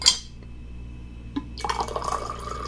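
Water pours into a glass, a brief clink followed by a rising, bubbling fill lasting about a second, close and clear in a quiet room.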